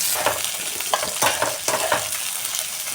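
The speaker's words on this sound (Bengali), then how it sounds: "দেবো আদা আর রসুন ছাড়ানো, দিয়ে দিলাম, দিয়ে একটু ভেজে নেব।" Ginger and garlic fry in a pan for an egg-stuffed omelette curry, giving a steady close sizzle broken by several sharp stirring scrapes and clatters, with no voices.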